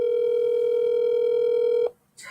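A steady telephone dial tone on a call to America hums unbroken for nearly two seconds, then cuts off abruptly, followed by a short burst of noise.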